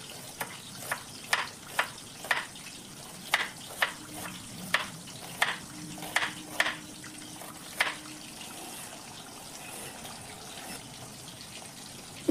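Pieces of catla fish fry in oil in a pan, a soft sizzle running under a series of sharp, regular clicks and taps from the kitchen that fade out after the first two-thirds.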